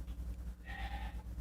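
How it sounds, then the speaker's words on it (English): A goat bleats once, a short faint cry far in the background behind a steady low rumble. "We have a goat and he likes to scream."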